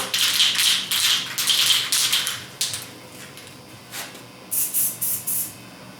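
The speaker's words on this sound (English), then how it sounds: "I'm going to start out by doing just a real light mist coat." Krylon Fusion Gloss White rattle-can spray paint goes on in several short hissing bursts of light mist, strong at first, then fainter, spaced spurts with pauses between.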